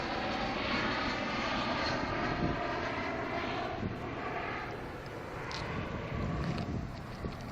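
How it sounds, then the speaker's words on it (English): A fixed-wing airplane on a low approach near the desert in Las Vegas roars overhead in a steady, loud engine drone with wind rumble, and no talk. "Not really a jumbo jet, but you can see how low he is coming in."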